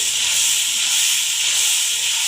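A spice tempering for kadhi pakora fries in a hot pan, giving a loud, steady, close-up sizzle with an unbroken bright hiss and no talking.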